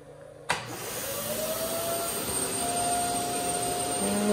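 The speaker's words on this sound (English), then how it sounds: "So let me turn the vac on." After a sharp click, the vacuum pump of a desktop CNC vacuum table switches on and runs in a steady, loud whooshing roar with a thin high whine. The noise holds constant to the end, and no one speaks over it.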